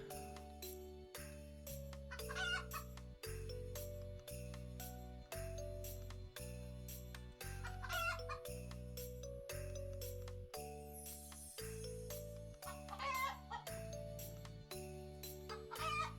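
Chickens in the game Terracards cluck in short, scattered bursts over blocky, repeating game music that carries steady chords, all fairly quiet.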